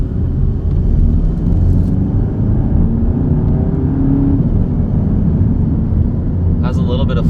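Inside a VW GTI with a Unitronic intake, air duct and turbo inlet, a steady, loud engine and road rumble carries turbo and intake whoosh, with a brief higher burst near the end.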